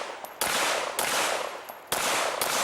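Pistol shots at a practical shooting match stage on an outdoor wildlife club range, loud close cracks in a rapid string, several sharp reports with ringing decay between them, no talk.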